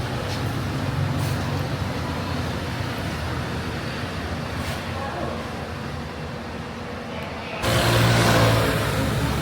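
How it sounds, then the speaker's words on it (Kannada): A car pulls away outside an airport-bound trip from Bangalore, its engine noise steady under street traffic, then a louder surge near the end as it moves off; voices talk throughout. "ಹೋಗ್ತಾ ಇದೆ ನಮ್ಮ ಗಾಡಿ."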